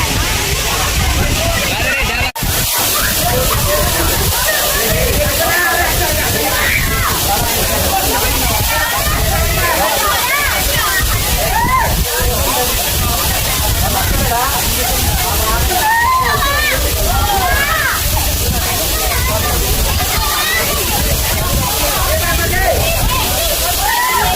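Katiki waterfall in Araku pours with a loud, continuous rushing roar and splashing, a steady wash that buries faint voices of visitors nearby.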